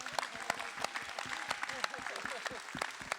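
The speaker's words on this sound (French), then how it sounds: "Un tonnerre d'applaudissements, s'il vous plaît." Applause at an award ceremony, a steady patter of many hands clapping at moderate distance for several seconds.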